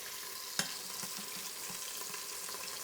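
Beef browning in a hot Instant Pot for stew, giving a steady, bright sizzle and crackle throughout, with a sharp clack of a utensil near the start and faint scraping beneath.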